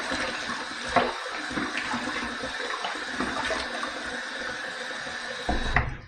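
Water runs from a sink tap to wet the face before a hot towel shave, a steady close rush with a few knocks and splashes and a louder gush near the end.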